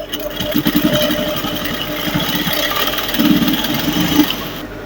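A sewing machine runs in quick mechanical rattling bursts, pausing briefly before stitching again, close and fairly loud.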